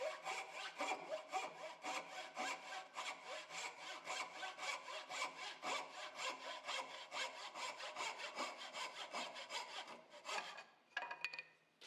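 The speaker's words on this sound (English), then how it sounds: "I sawed as much as I could with the panel saw, and the curves with my homemade small bow saw." Wood being cut by hand with a panel saw and a small homemade bow saw, heard as a long run of regular rasping back-and-forth strokes, close and steady, ending in a few shorter uneven strokes.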